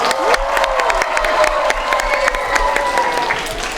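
A school playback show audience applauding with cheering and children's excited voices mixed in, loud and sustained for several seconds, with individual claps audible through the crowd noise.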